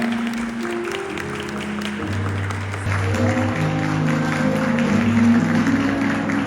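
Wedding guests applaud as the bride and groom bow to the parents, a steady mid-level wash of clapping that rises a little partway through, with music or tones running beneath it.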